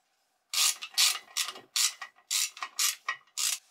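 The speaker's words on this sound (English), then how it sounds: "I'm gonna use a ratchet just to make things quicker." A hand ratchet tightening a bolt on a bicycle frame makes eight crisp, evenly paced clicking bursts, close and clear against a quiet background.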